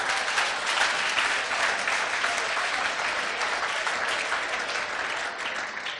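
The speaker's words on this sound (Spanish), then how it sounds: "Dale un aplauso al Señor." A church congregation applauds during a Wednesday evening service, dense clapping from many people filling the room at an even level for several seconds before easing slightly at the end.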